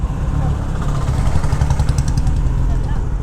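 A Kawasaki ZX-10R fitted with an SC Project full-system exhaust idles with a deep, throbbing burble close by, while people talk over it.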